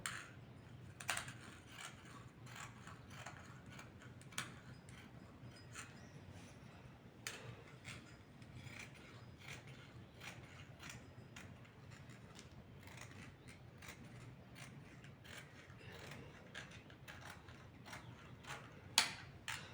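Scissors cut through saree fabric for a dress, making faint, repeated snipping clicks at an uneven pace throughout, quiet and close, with no talking.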